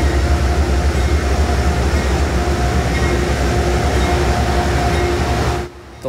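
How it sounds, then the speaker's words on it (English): An Amtrak train rolls along with a loud, steady rumble and rail noise heard from on board, its constant drone persisting for over five seconds before dropping away suddenly near the end. "this locomotive can go into the tunnels underneath New York City on third rail power"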